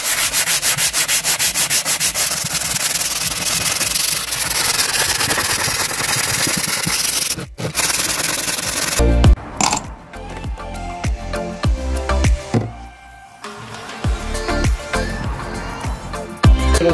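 A shim block sanding the flat surface of a Case 580G backhoe engine block makes steady, close, rhythmic rasping strokes, while an idling engine runs in the background. Later the strokes turn irregular with knocks and scraping.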